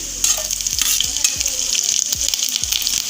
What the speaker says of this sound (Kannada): ಇಲ್ಲಿ ಇವಾಗ ಬೆಳ್ಳುಳ್ಳಿ ಸ್ವಲ್ಪ ಫ್ರೈ ಆಗಬೇಕು ಇದರಲ್ಲಿ. ನಂತರ ಹಸಿಮೆಣಸಿಕಾಯಿ